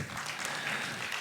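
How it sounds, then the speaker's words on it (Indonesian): Brief applause from an audience at a church synod plenary session, a dense, even patter of many hands that is moderately loud and carries no speech. "Boleh tepuk tangan, boleh."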